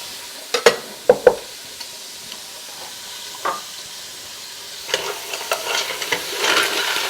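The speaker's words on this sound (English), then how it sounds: "now what we're going to do is basically saute our mussels and our clams" Mussels and clams drop into a pan with a few sharp clatters of shells, followed by a quiet hiss that swells into a louder sizzle as they sauté in olive oil.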